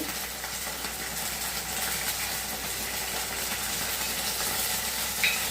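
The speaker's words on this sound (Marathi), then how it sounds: "हे सगळं मंद गॅसवर परतून घ्यायचं" Red chili, green chili and soy sauces are sautéed in a pan over a low flame for soya manchurian, a soft steady sizzle with stirring scrapes and a brief sharp clink near the end.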